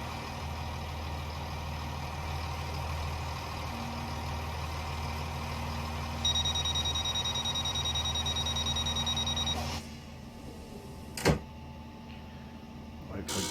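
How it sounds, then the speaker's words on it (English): A guard buzzer sounds in a Class 165 diesel train in Train Simulator on the London Paddington to West Ealing route, a steady electronic tone over the idling engine rumble, followed by a short sharp click and quieter cab noise. "Wait for the guard buzzer."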